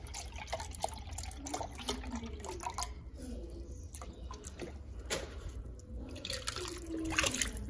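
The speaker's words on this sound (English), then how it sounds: "Okay, now you add your broth, which is 1 cup." One cup of broth poured into a crock pot, a faint trickle and splash of liquid with soft drips throughout.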